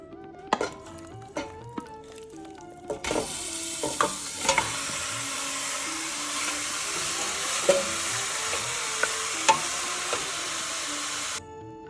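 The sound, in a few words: marinated mutton added to a heavy pot and stirred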